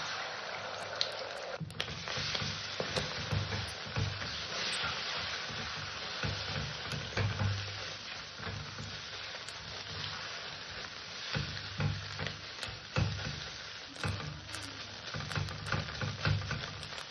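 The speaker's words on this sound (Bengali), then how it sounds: "আমার ডিমটা ভাজা হয়ে গেছে।" Beaten egg frying in a little white oil in a hot wok. A continuous, fairly even sizzle runs throughout with soft patters and low background rumble.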